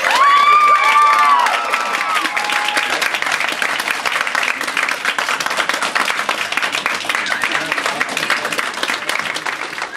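A live audience at a JRfm Fan Jam Lounge concert bursts into loud cheering and sustained applause. Shouts rise at the start, then steady clapping continues throughout at close range.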